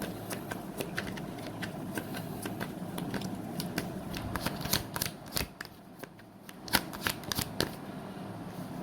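Tarot cards being shuffled by hand in repeated quick riffling bursts of crisp papery flicks and slaps, close and fairly quiet against a soft background.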